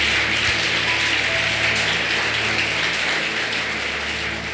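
A church congregation applauding, a steady, dense patter of many hands clapping together, loud and sustained without break.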